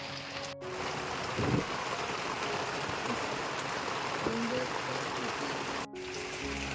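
Monsoon rain falls steadily in rural Konkan, a broad continuous hiss of heavy downpour with a few faint tonal noises and brief dropouts, no clear voices.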